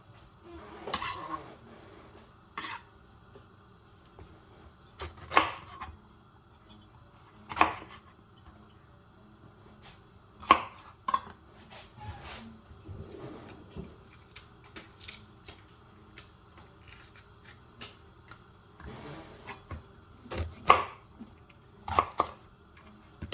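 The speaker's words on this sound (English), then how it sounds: "And we want to cut them lengthwise. That's just called a julienne cut." A knife julienne-cutting peppers lengthwise on a board, with sparse, irregular taps and thuds that are fairly quiet and spaced out under low room noise.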